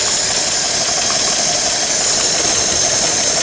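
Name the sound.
Chevy 235 straight-six engine being revved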